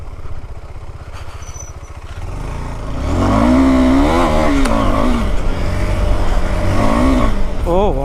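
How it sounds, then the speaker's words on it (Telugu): A 2021 KTM Adventure 390 engine revving hard off-road, starting as a steady idle rumble then climbing into loud rising and falling revs with rapid pitch sweeps, close to the listener. "ఇంజన్ నాయిస్ అయితే వస్తుందో ఆ నాయిస్ తోటే మీకు అర్థమై ఉంటుంది ఎంత పవర్ వస్తుంది అన్నది"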